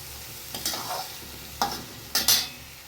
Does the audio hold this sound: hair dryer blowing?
no